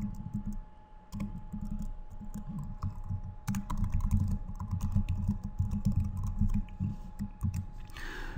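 Steady keyboard typing as code is written on a computer, a continuous run of close, dense key clicks lasting throughout with a low background hum and no talking.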